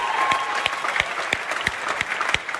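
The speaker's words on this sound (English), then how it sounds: "Give them a cheer," An audience at an EA Sports event applauds and cheers, with dense, continuous clapping running throughout and a steady rhythmic beat pulsing underneath.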